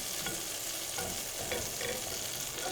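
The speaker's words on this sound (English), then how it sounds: "Add some butter, and we're making our second roux of the day." Butter melting and sizzling in a pan as the base for a gravy roux, a steady soft frying hiss with light stirring, close and continuous with no voices.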